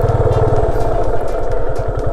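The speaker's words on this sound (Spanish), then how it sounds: "Vamos a estacionar la moto allá." A motorcycle engine idling and chugging with a rhythmic low putter as the rider parks on muddy ground, loud and close, with someone speaking over it.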